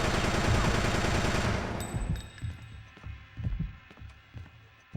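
Rapid sustained gunfire from the video game Fear Effect 2 fills the opening seconds in a dense automatic burst, then gives way to scattered separate shots and thuds.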